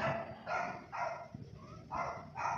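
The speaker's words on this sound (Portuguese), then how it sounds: "Ai, agora começou os cachorros." Dogs bark repeatedly in the distance, several spaced bursts of barking in a steady rhythm, with no talk over them.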